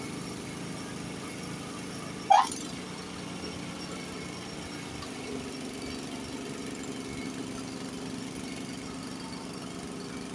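Honda snowblower engine running steadily in first gear while throwing snow, its drone faint and low, with a brief sharp squeal early on before the note settles back.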